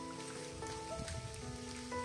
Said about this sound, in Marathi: धुके आहे, त्याच्यात पाऊस चालू